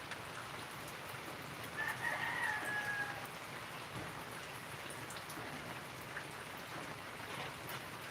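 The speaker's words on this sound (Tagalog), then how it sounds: "hindi naman siya kalakasan pa, ano-ano lang, unti-unti lang ang ulan" Light morning rain falls in a soft, steady patter, while a rooster crows once in the distance early on; no one speaks.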